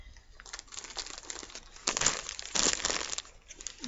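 Plastic bags holding sets of small baby-doll clothing crinkle and rustle in irregular bursts, soft at first and then louder and denser near the middle, with no talk.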